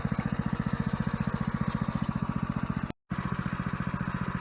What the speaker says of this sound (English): we're idled down again. We've been dredging for a little over an hour or so